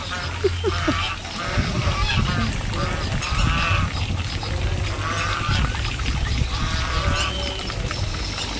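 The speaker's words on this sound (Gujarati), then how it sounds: "જોજો ને જોઈને બતકો પણ માંડી બોલવા." Several ducks quack and honk repeatedly nearby in a noisy, overlapping chorus, with some faint background voices.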